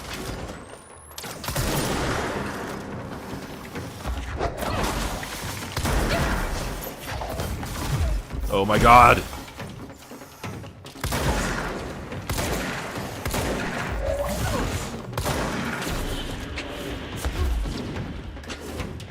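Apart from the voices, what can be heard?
enemy gunfire in the video game Control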